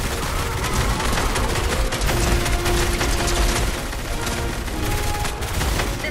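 Gunfire in the video game Fortnite: a dense, continuous clatter of rapid mechanical shots and ratcheting bursts, loud and unbroken for several seconds with no talking.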